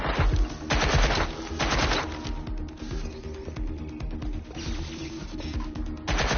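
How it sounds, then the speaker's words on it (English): Bursts of video game gunfire crack out in rapid, overlapping volleys, loud and close, with heavy automatic stretches near the start and end and scattered shots between. "They're shooting at us!"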